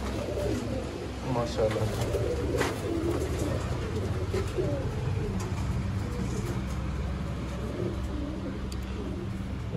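Golden Sialkoti pigeons cooing near and fairly steady over a low background rumble, with someone briefly speaking.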